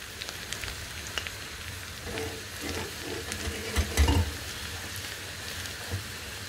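Garlic tarka frying in hot oil for dal, a steady low sizzle with a brief louder crackling burst near the middle and faint spoon stirring.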